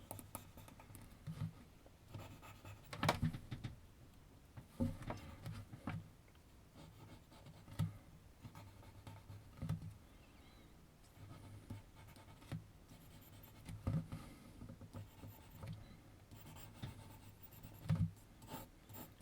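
Pencil hatching on paper during a realtime drawing of a girl, a soft close scratchy rubbing in repeated short strokes with occasional firmer taps, steady and quiet with no talk.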